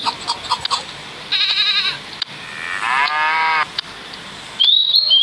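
Goats bleat several times at close range, with calls spaced across a few seconds over a quiet farmyard background and no talking.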